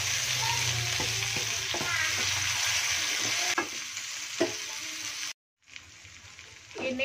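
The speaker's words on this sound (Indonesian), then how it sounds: "Kita tumis ya teman-teman." Chopped vegetables for a shrimp-paste terasi stir-fry hiss loudly in a hot pan, with intermittent scraping and tapping from stirring and a brief silent break near the end before the sizzling resumes.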